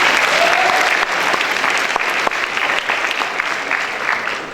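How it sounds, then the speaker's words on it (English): Loud, sustained audience applause at a high school senior awards ceremony, a full, dense crowd clapping that stays strong and steady throughout. "I think we should give them a round of applause"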